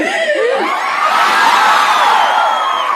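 A crowd in Jorhat shouts and cheers loudly as a performer arrives, with excited high-pitched voices and whoops blending into a continuous roar.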